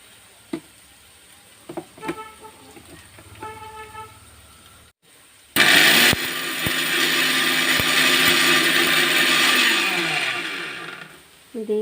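Mixer grinding fried bitter gourd into a smooth powder: after a few soft knocks and clicks, the motor starts abruptly and runs loud and steady for about five seconds before winding down.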